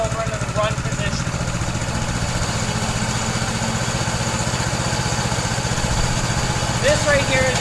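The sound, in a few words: Blue Bird sod cutter engine started and running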